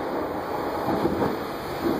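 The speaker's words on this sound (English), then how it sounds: "it's hectic out here when it comes to this rain. This rain is passionate out here" Heavy rain pours outdoors in a steady, dense wash of noise with faint low rumbles, continuous and fairly close throughout, with no talk.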